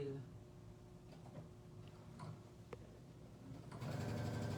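Sewing machine stitching a straight seam during a home sewing demonstration of presser feet and technique, a steady whirring motor under a speaking voice that grows louder and denser near the end.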